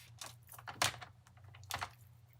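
A paper trimmer slices a one-inch strip off card stock for a holiday card, giving a few short, close clicks and scrapes with two sharper snaps, quiet and with no talk.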